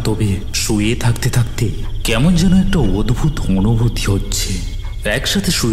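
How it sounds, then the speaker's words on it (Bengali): Cartoon-style crickets chirping outside on a quiet night after rain, a steady faint trill beneath someone narrating throughout. "ঘড়ির কাঁটার টিকটিক শব্দর সাথে বাইরের ঝিঝির ডাক কানে ভেসে আসছে।"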